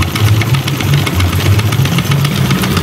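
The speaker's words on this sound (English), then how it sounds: "this is just a view of this Stirling engine fan" A Stirling engine fan runs steadily, giving off a loud, continuous mechanical hum with a low, rhythmic pulsing throb close by and no speech.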